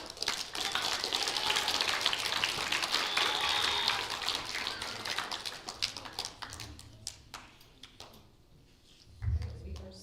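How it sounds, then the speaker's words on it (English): A spelling bee audience gives a round of applause, a dense patter of clapping that thins into scattered claps and fades out, then a low thump near the end. "give a round of applause"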